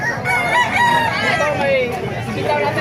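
A Mercy Black rooster, an eight-month-old early-bird line at a poultry market in Bocaue, crows loudly and close over a busy crowd with other fowl clucking and people talking throughout.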